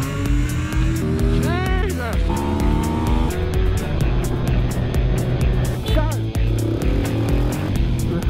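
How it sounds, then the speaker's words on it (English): A 2020 KTM 250 EXC-F enduro motorcycle ridden at full power, its engine loud and close, revving up and down steadily throughout. "This is just a first ride for me to get used to the bike and probably get used to how to ride enduro again"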